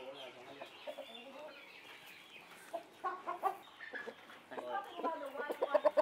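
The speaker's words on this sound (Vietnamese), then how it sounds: "Con gà có bộ lông màu trắng này thì nó vẫn thuộc vào dòng gà Đông Tảo thuần chủng" A purebred white Dong Tao chicken clucks in short, irregular bursts nearby, mixed with other fowl sounds and someone speaking over it.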